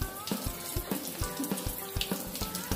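Tap water runs steadily into a sink with a broad splashing rush and a few soft knocks, heard alone at a modest level in a home in the UAE.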